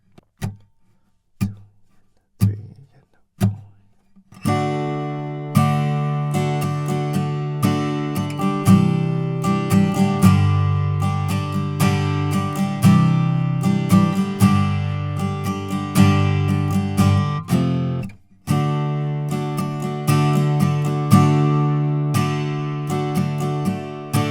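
Strummed guitar chords of the verse of a song, a few separate strums at first, then a steady driving rhythm of full chords ringing out with a brief pause near the end.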